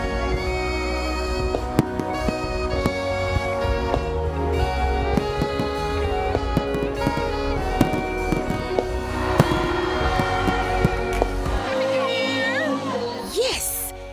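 A New Year fireworks display on the Waterfront in Jamaica sends repeated crackling bursts and pops through the whole stretch, mixed with music and a speaking voice.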